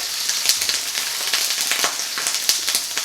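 Olive oil, crushed garlic and onions sizzle steadily in a hot pan, a dense continuous hiss dotted with sharp crackles and pops throughout.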